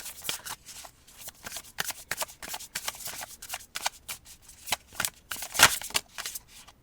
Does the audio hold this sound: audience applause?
no